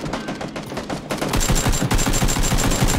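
Rapid automatic gunfire bursts crack out in the PUBG video game, loud and close, with a steady rattling rhythm of repeated shots for a few seconds.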